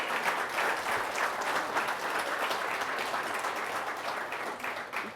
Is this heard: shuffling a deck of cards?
no